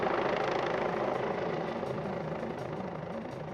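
A police helicopter flies overhead, its steady broadband rotor and engine roar holding at moderate loudness throughout and fading only slightly toward the end, with no voices.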